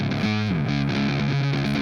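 Electric guitar in GarageBand with distortion and an octave pedal, a short loud phrase of gliding, sustained notes with a thick doubled tone.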